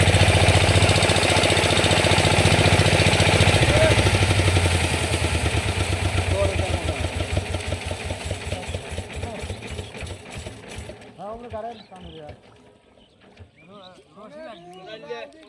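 A machine engine runs after being switched on, a steady mid-pitched mechanical drone with rapid pulsing that slows and fades as it shuts down, then voices talk near the end.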